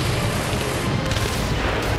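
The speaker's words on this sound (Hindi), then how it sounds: "ड्रोन पर मशीन गन से फायरिंग शुरू कर दी" A Russian machine gun fires on a Ukrainian explosive sea drone racing across the Black Sea, heard as a dense, continuous burst of loud, rapid reports over the whole stretch, with no voices.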